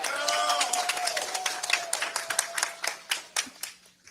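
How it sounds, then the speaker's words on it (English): Crowd at a racing driver meeting clapping and cheering, a dense burst of applause with a whistle near the start that thins into scattered claps. "Sounds like you got a good, exciting crowd there today."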